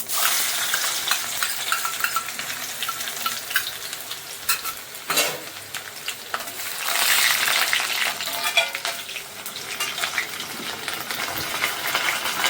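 Cumin seeds and garlic crackle and sizzle in hot oil, a bright steady frying hiss with bursts of stirring and spoon clinks against the pan, close up and without talk.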